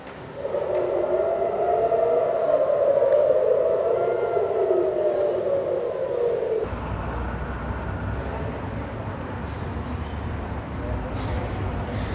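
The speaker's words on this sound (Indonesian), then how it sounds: "Suara sirine pertanda bahaya tak berhenti meraung di tengah gemerlapnya langit malam di wilayah Tel Aviv" Air raid sirens wail across Tel Aviv at night during a missile attack, a rising and falling civil defense tone heard loud for several seconds before cutting to a busier, noisier street ambience with traffic-like rumble.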